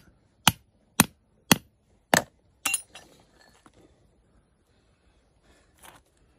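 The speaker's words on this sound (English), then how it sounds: "I don't know if it's worth really hammering this big piece out." A hammer strikes a big piece of fluorite rock five times at an even, roughly half-second pace, each blow a sharp, loud ringing crack, followed by softer scraping and one faint final tap.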